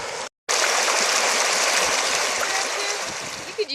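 Water pouring through a small hand-built dam meant to filter it for drinking in the wild: a steady close rushing and splashing flow, broken by a moment of silence near the start.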